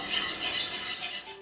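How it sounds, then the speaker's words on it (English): A utensil steadily stirs roux into a cream sauce in a pan with a soft, swishing scrape, close and continuous with no talk. "So I just add a little bit of roux, get this stirred up"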